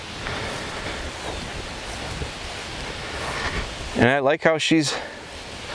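Steady outdoor wind noise rushes across the microphone for several seconds, then a voice speaks briefly near the end.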